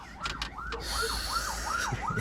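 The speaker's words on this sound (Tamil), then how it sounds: "ஆம்புலன்ஸ்ண்ணா இது" An ambulance siren wails on a main road at night, a loud, rapidly cycling rising and falling tone repeated several times, with no talking over it.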